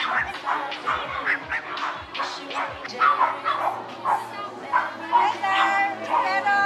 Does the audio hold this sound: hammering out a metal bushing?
no